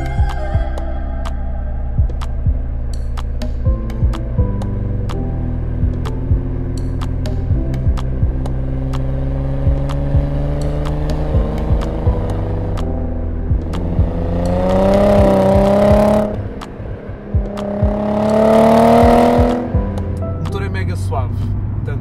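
A Nissan 300ZX twin-turbo engine idles smoothly and steadily up close, then revs twice in strong swelling bursts before settling back, with a person talking over it.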